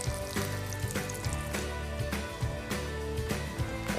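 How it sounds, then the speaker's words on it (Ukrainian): Beetroot pancake batter sizzling in hot oil in a pan, a steady bubbling fry with soft crackles, fairly quiet and close, no talking. "Смажимо наступні."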